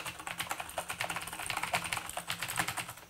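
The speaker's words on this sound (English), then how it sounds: "don't get a blue Cherry MX keyboard" Fast typing on a mechanical keyboard with blue Cherry MX switches, a dense, rhythmic stream of sharp, loud clicks heard close and alone.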